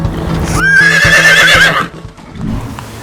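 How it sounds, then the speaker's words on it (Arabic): Arabian horse giving one loud close whinny lasting over a second, with hooves thudding rhythmically underneath and a few more hoof sounds after the neigh fades. "الحصان العربي الاصيل"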